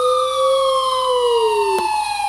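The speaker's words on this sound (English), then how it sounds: "I finally heard sirens in the distance." A single siren tone glides slowly downward, steady and fairly clear, with a brief sharp click near the end.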